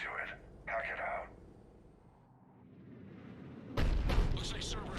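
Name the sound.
cannon firing in Mass Effect 3 video game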